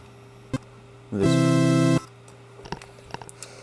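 A bright, buzzy saw-wave synthesizer chord played on a keyboard in LMMS sounds for under a second, sharp clicks and faint tapping before and after.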